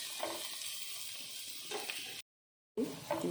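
Vegetables for noodles, made without capsicum, fry steadily in a pan with a continuous close sizzle and occasional stirring scrapes, broken by a brief silent gap.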